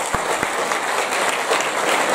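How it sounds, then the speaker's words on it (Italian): Audience applause for a town music band at a 70th anniversary evening of an alpine veterans' group in Caselette, a steady dense wash of clapping from a hall crowd with a couple of sharp thumps early on. "Vi chiedo ancora un applauso al corpo musicale"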